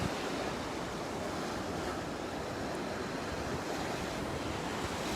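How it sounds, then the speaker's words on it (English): Ocean surf rolls onto a beach during a sea turtle hatchling release, a continuous broadband wash of breaking waves with wind buffeting the microphone, loud and unbroken with no voices. "Here comes a wave."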